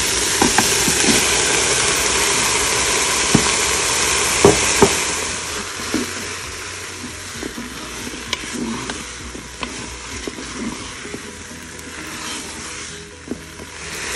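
Veal browns in a Cookeo Touch Wifi multicooker, starting with a loud hissing sizzle that settles into quieter crackling with scattered sharp pops.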